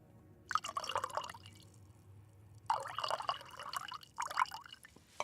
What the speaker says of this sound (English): Just a little bit of the pouring sounds of the sweet, sweet nectar of the gods